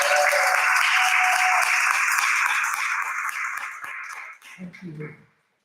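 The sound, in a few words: audience applause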